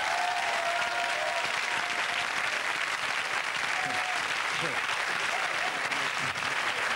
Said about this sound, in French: Applaudissez-moi pour ma répugnance